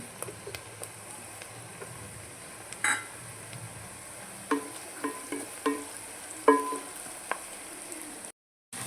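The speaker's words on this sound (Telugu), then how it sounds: "ఆనియన్స్ కొంచెం వేగితే చాలండి ఎందుకంటే ఆనియన్స్ ఎక్కువ వేగితే టేస్ట్ అనేది మారిపోతుంది" Onions and curry leaves fry in a pan with a soft, steady sizzle, while a utensil stirs and clicks against the metal now and then in close, distinct taps, with no talking.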